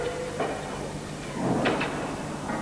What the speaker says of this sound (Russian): Сержант, дверь.